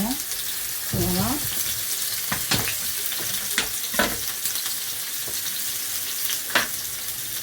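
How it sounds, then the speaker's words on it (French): A slice of pollock browns in a hot pan with a steady loud sizzle and hiss, broken by a few sharp crackles and pops, with faint background sounds but no clear talking. "Là, j'ai découpé ma tranche de lieu. Je vais la dorer un peu."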